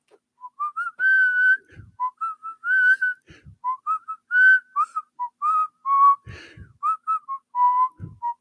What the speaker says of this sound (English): I start whistling. And it's always when the Saints go marching in.